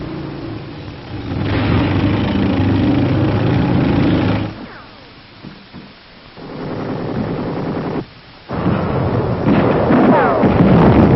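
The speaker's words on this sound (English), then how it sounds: "Tanks pace the advance of an infantry division." WWII tanks advancing with an infantry division in wooded terrain near Aachen, a loud, heavy engine roar and rumble that drops away twice before surging back, harsh and unsteady like old field recording.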